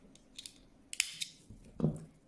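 Scissors snip through crochet yarn during work with a 3 mm hook, giving a few short, close, crisp cuts spaced apart in quiet surroundings.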